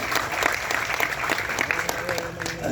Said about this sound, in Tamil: அவருக்காண்டி ஒரு கைத்தட்டி பாராட்டு தெரிவிச்சுக்கலாம்